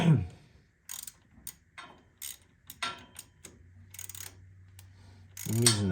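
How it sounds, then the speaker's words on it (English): A bolt is tightened by hand on a wiring connection of a 1924 Ford Model T Touring, giving close, intermittent metallic ratcheting clicks and scrapes in short bursts, with a low hum between them. "using the bolt to force down the connection."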